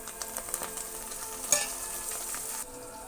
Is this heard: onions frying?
yes